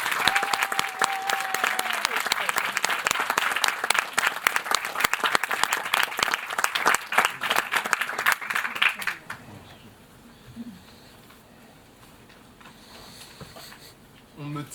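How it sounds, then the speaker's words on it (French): An audience claps loudly at a staged courtroom trial of Robin Hood, a thick burst of applause lasting about nine seconds before cutting off abruptly into quiet room tone with faint movement and a brief voice near the end. "Je vous demande de faire un tonnerre d'applaudissements pour celui qui sera libre ou non à la fin de ce procès"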